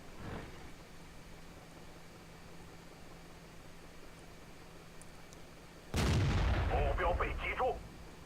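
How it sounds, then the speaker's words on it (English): A single loud tank cannon shot booms from a World of Tanks replay, an abrupt blast with a rumbling, crackling tail lasting a couple of seconds over steady low background noise. "So a nice shot into the side of the T-32."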